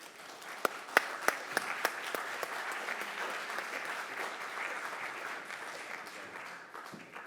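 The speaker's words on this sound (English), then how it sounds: "Please welcome her with a round of applause." Audience applause welcoming a speaker onto the stage at a creators' conference, a steady wash of many hands clapping with a few sharp, close claps standing out early on, holding at an even level throughout.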